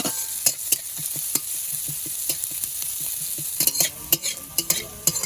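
Onion and cumin fry in oil with a steady bright sizzle. A spatula taps and scrapes the pan in a regular rhythm that grows busier toward the end.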